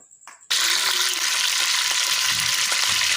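Ghee heats in a pan and bursts into a loud, sustained sizzle after a brief quieter moment, then keeps crackling evenly up close.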